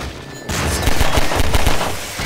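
A blast goes off in the video game Half-Life 2, bursting in suddenly after a quiet moment and followed by a dense, rumbling rattle of booming crackles that stays loud to the end.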